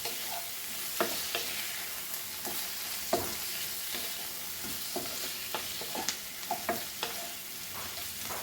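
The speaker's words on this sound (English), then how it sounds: "And then mix all this, because it is stir fry and potatoes are nicely cooked." Potatoes being stirred in a pan for a Goan spinach stir-fry, with a soft constant sizzle under a run of regular scraping and tapping spatula strokes, close and alone.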